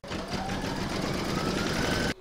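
An embroidery machine stitches a mandala placemat in the hoop, a steady close-up rapid needle hum running without pause for about two seconds before stopping abruptly.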